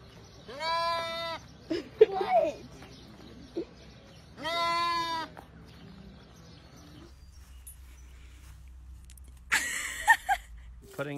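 A baby goat bleats in two loud, wavering cries close by, with a sharper bleat near the end and a stretch of quieter background between.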